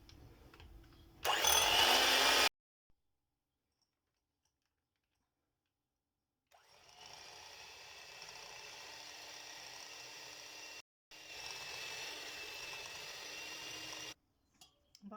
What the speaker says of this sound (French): Commencer par battre le sucre et le beurre.